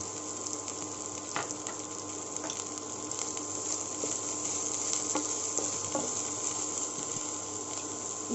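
Chopped carrots sautéing in a pan over a medium flame, a steady soft sizzle with occasional scraping stirs, close but fairly quiet under a constant hiss.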